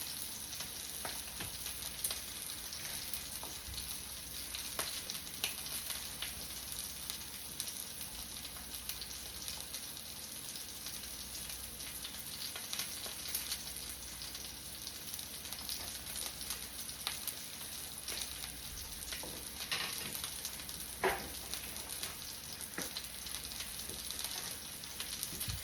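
Ribeye steak sizzles in a pan with butter, fresh rosemary and garlic, giving a loud, even, continuous frying hiss with scattered pops throughout, close up and with no talking.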